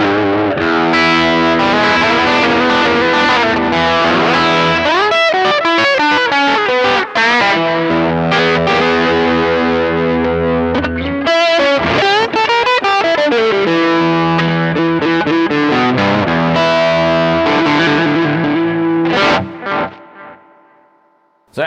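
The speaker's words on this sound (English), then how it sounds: "Let's add a little bit of delay and see how it sounds." Electric guitar run through a pedal chain with delay added, playing loud distorted chords and notes with echoing repeats trailing behind, continuous for about twenty seconds before fading out.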